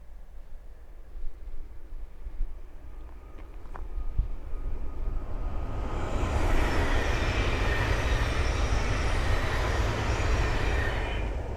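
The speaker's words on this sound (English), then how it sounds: "the next train to pass by is a Thameslink 700 from Bedford to Gatwick Airport" A Thameslink Class 700 electric train bound from Bedford to Gatwick Airport passes on the Midland Main Line at Ayres End Lane, building from a distant rumble into a loud, steady broadband roar of wheels and rushing air that holds to the end.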